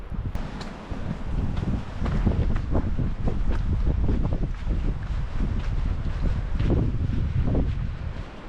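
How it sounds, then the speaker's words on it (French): Steady gusting wind buffets the microphone on a hilltop during a hike, a continuous loud rumble with rustling that swells and eases throughout, heard alone without talk. "Sur les hauteurs, on sent le vent, hein."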